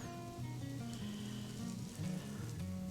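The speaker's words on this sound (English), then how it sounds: "You hear it sizzle?" Close, soft sizzling of biscuits frying in hot butter in a 425-degree oven, a steady crackling hiss over low background hum.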